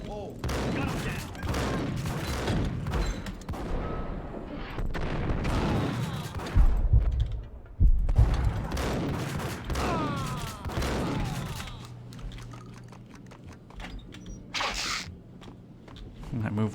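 Gunfire in Max Payne comes in quick bursts of shots and impacts alongside footsteps. Someone talks over much of the shooting, which grows quieter toward the end.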